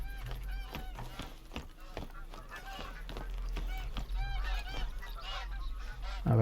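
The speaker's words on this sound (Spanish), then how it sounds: "Eso que suenan serán patos." Geese or ducks honk repeatedly in the outdoor wilderness of The Hunter video game, a busy chorus of calls over a steady low ambient hum, moderately loud and fairly close.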